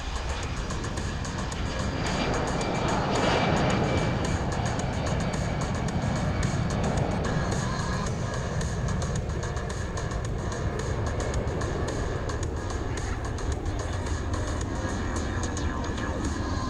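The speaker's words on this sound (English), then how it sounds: "on the takeoff roll from the 97th Air Mobility Wing at Altus Air Force Base in Oklahoma, presenting the Boeing C-17 Globemaster 3." A Boeing C-17 Globemaster III from the 97th Air Mobility Wing at Altus Air Force Base rolls for takeoff at the 2024 Rochester International Air Show, a broad, continuous jet roar heard from a distance that swells and stays steady.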